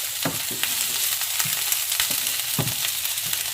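Cabbage sizzles steadily in a hot pot while a utensil scrapes and stirs it in repeated strokes, close up, with no talking.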